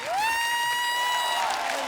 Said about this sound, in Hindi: हिमेश सर के लिए जोरदार तालियां।